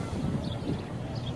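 Strong wind buffets the microphone outdoors during a flight of a Top Race TR-D4 Dragon drone, a steady low rumbling roar with no clear breaks.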